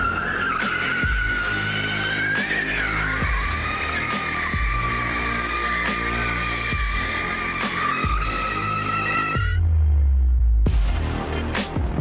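A Mercedes-Benz AMG GT 63 S 4MATIC+ drifting through night streets in Tashkent, with a loud sustained tire squeal riding over the roaring engine, the pitch wavering, then a brief deep rumble before the squeal resumes.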